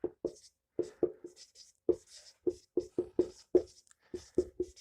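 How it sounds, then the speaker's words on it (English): Pen or chalk scratches out a math formula in short, separated strokes, a dozen or so soft taps and scrapes close by in quiet surroundings with no talk. "So let me just formulate this or write what I mean."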